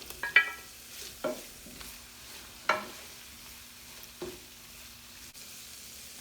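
Grape tomatoes and fresh basil sizzling quietly in a pan on the stove, a soft steady frying hiss broken by a few sharp pops and the clack of a stirring spoon.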